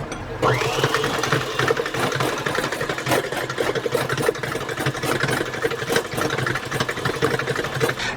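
Electric mixer whisking white and brown sugar with lard for Chinese almond cookies, a steady whirring motor hum running continuously at close range with no talk.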